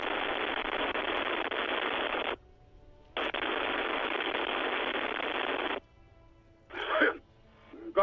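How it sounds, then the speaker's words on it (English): Harsh radio static from the Disco Elysium video game, two long loud bursts of broadband hiss separated by a brief gap, followed by a short crackling burst near the end. "Her voices fade out into the familiar radio static."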